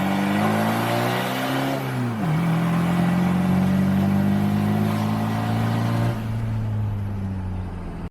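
An Isuzu D-Max with a 4JJ1 diesel engine accelerates on a drive, its loud, steady engine drone rising in pitch with a brief dip near the gear change, then holding a sustained, close rumble.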